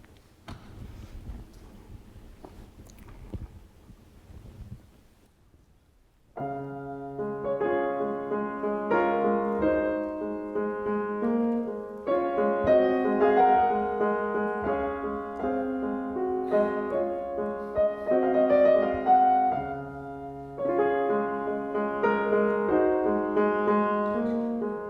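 After several seconds of faint near-silence, a piano plays a gentle, pleasant 19th-century-style composition with flowing melody over sustained chords, moderately loud and continuous to the end.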